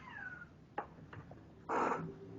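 Faint kitten meows from somewhere nearby: a thin cry at the start, a few short squeaks and a louder meow near the end, over a quiet room.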